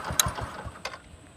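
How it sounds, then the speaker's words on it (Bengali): A 2022 Bajaj Discover 125 cc motorcycle engine idling close by, a soft, even low putter of regular pulses with a couple of brief higher ticks, no talking. "এটা সাউন্ড কোয়ালিটি কিন্তু অনেক সুন্দর ইঞ্জিনের সাউন্ড দেখেন একবারে স্মুথ ইঞ্জিনের সাউন্ড"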